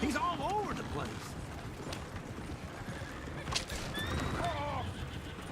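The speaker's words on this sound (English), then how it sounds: "Is one of you gonna get that fella's horse?" Horses in Red Dead Redemption 2 clip-clop along while one neighs and whinnies sharply several times, with voices talking over the hoofbeats and the sounds of movement around them.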